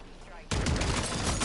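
Sustained automatic gunfire from Modern Warfare Zombies bursts in loudly after a quieter half-second and keeps going as a dense, continuous rattle of rapid shots through the rest of the moment.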